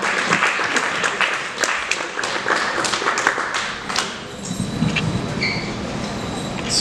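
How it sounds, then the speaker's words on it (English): Audience applause fills a stand-up comedy show, a loud, dense burst of clapping lasting several seconds before thinning out and tapering off. "Guys, give him a huge round of applause."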